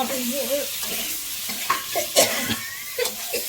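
Pointed gourd pieces fry and get stirred in hot oil for a dahi potol dish, a steady close sizzle under irregular scraping strokes and a few sharper clinks of the spoon against the pan.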